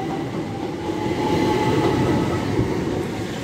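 A Class 375 electric train, unit 375916, departs Ashford International for Folkestone, its steady rolling rumble and wheel noise running close and even throughout.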